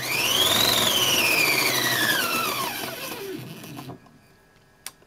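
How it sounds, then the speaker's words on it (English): Pfaff 230 sewing machine driven by a BDC motor at maximum speed, about 1800 stitches per minute, a loud high whine that slowly falls in pitch as it winds down, then near silence and a single click. "This is max speed, and it is about 1800 stitches per minute."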